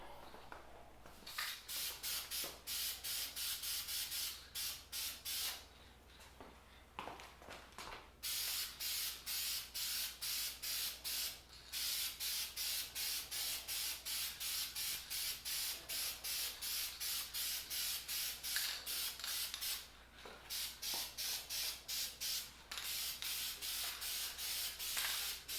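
Rapid, regular bursts of spray paint hiss as a final coat goes onto a restored 1920s AGM 288 lantern, short puffs repeating in quick rhythm with a few brief pauses, close and fairly quiet.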